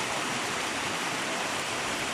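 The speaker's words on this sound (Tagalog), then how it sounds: "Ang sarap sa piling na umuulan." Steady rain pours down outdoors after a month-long dry spell, a dense, even broadband hiss that stays constant and close throughout with no talking.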